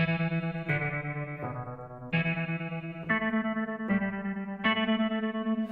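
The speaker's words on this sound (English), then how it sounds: "Low values have an almost tremolo-like slicing effect" Logic Pro Alchemy synth patch with low grain density, producing a tremolo-like slicing texture over sustained harmonic notes that change pitch every second or so, loud and steady with no talking.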